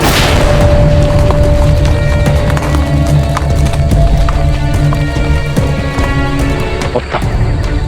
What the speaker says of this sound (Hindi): कुंवर प्रताप जी, आप हमारे घोड़े ले जाइए, हमारे पास और घोड़े हैं। अश्व लाइए